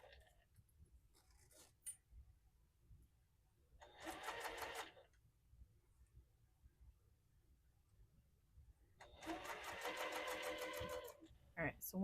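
A sewing machine bastes the top edge of a wallet's exterior pocket lining in two short bursts of rapid stitching, the second longer, separated by quiet pauses with faint handling noises.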